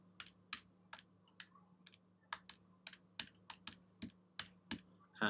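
Keys tapped on a calculator, a quick irregular run of crisp plastic clicks, close and fairly quiet against a low steady hum.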